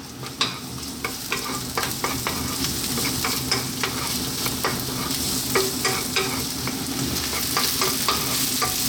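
A creamy garlic spinach spaghetti sauce sizzles over high heat in a pan while being stirred constantly, with a busy frying crackle and repeated scraping clinks of the utensil, close and loud.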